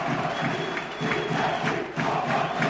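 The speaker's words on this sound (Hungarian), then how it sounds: "Most a szombathelyi közönség hangja jön meg" Home crowd at a men's league basketball game in Szombathely, Hungary, roaring and chanting in rhythmic surges; the noise stays loud and continuous, swelling in regular pulses across the short stretch.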